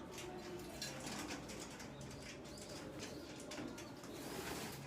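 Soft cooing of racing pigeons at a breeding setup in Bahawalpur, low murmuring calls over a steady background with occasional wing flutters, faint and continuous.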